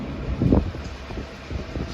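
A Lehigh Gorge Scenic Railroad passenger train rolls behind R&N F units, its low rumble and rattle heard from aboard with a steady wind-buffeted hum and a few louder thumps, close and continuous with no talk.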